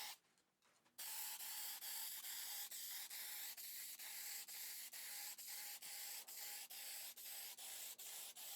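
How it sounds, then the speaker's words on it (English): Fine sandpaper rubbed by hand over plywood before a clear poly coat on a custom pet bed: close, steady back-and-forth rasping strokes in an even rhythm, after a brief quiet start. "I'll go over the plywood with some fine sandpaper before giving it a clear coat of poly."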